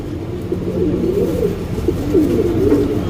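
Pigeons coo continuously in low, rolling warbles, several birds close together and fairly loud, with no talking.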